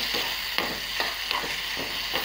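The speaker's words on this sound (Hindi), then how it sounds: "पहले हम इसमें टमाटर डालेंगे और इसे अच्छे से चलाएंगे।" Tomatoes sautéed in hot oil with cumin seeds for vegetarian Maggi, a constant soft sizzle broken by regular spatula strokes scraping through the pan.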